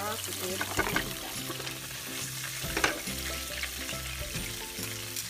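Garlic sautéing in a hot pan for pork bistek, crackling and sizzling steadily with stirring scrapes and clinks over a low background murmur.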